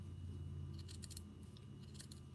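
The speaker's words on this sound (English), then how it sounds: "So you just go around and cut off what you don't need." Scissors cut paper scraps for making paper flowers, producing faint, quick snips in a short cluster over a low background hum.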